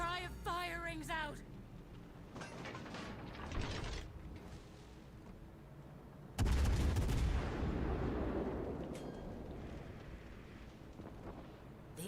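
Naval guns boom in a World of Warships: Legends battle: a loud, heavy low blast lands midway and rolls into a long rumbling tail, following earlier mechanical clanks and whirring amid game effects.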